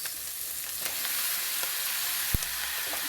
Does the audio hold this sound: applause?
no